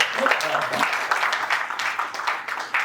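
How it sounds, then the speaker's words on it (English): Audience at a business talk on exporting clapping in a room, a modest patter of hands lasting a few seconds, with a voice briefly heard at the start. "I think we should clap for that"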